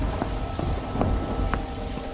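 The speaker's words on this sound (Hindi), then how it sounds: "धीरे धीरे बारिश बढ़ जाती है" Unseasonal winter rain in an animated story falls steadily and loudly, a dense hiss with scattered drop patters and a low rumble like distant thunder.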